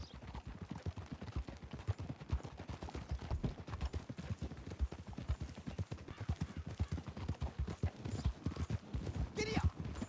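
Galloping horse hooves in Red Dead Redemption 2, a rapid, rhythmic clip-clop pounding steadily throughout, with a voice briefly speaking over it.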